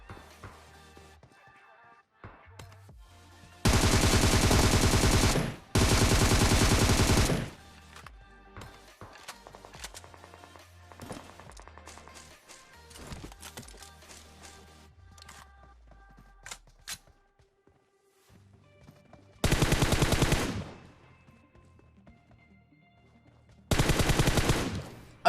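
PUBG video game gunfire comes in several loud, dense automatic bursts of a few seconds each, separated by quieter stretches of game ambience and scattered single shots.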